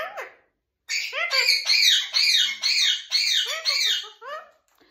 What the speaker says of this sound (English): I'm in the bird room. That's why it's so noisy.